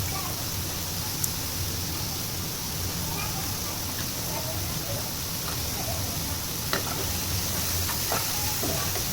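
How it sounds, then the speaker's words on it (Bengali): Onion and garlic fry in a little oil with a steady, soft sizzling hiss throughout, occasional faint clinks of stirring, and a voice faintly present in the background. "এরপর এই হালকা তেলে পেঁয়াজ এবং রসুনগুলোকে আমরা লালচে হওয়া পর্যন্ত আমরা নাড়াচাড়া করে দেব"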